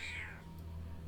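A cat gives a single drawn-out meow in the World of Warcraft video game, heard alone against a faint steady background.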